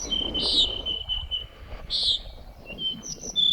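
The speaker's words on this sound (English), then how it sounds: "I can hear the call of the sparrow, the flycatcher, the pinyon jay, and the nighthawks." Birds such as sparrows, flycatchers, pinyon jays and nighthawks call in the high Sierra near Bodie on the California-Nevada border, giving repeated thin, high chirps over a quiet outdoor background.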